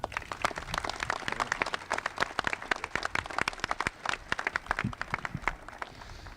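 A crowd claps at a dedication ceremony for the Illinois State Police memorial park in Springfield, an outdoor event, with dense, fairly loud applause holding steady for several seconds.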